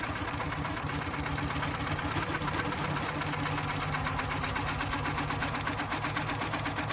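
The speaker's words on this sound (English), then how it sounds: "So this is Prostitcher stitching out the design" A Handi Quilter Prostitcher quilting machine stitches out a design at 11 stitches per inch, couching variegated yarn, producing a steady, fast mechanical whirring and rapid needle chatter that runs continuously and evenly throughout.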